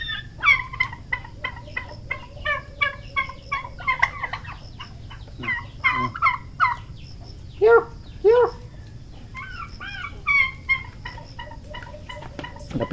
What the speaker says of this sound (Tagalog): Ito yung mga sisiw niya, oh.